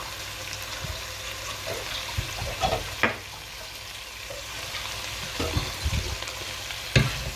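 Beef bourguignon sizzling and frying in a pot while being stirred, with soft scraping strokes and brief louder clatters over a steady hiss, close up and without speech.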